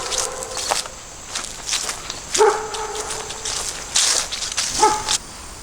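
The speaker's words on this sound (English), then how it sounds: "I know if you heard that dog barking earlier" A dog barks a few times at a distance outdoors near a river at Warriors Path State Park, Pennsylvania, short sharp yaps spread out over steady ambient noise and footsteps.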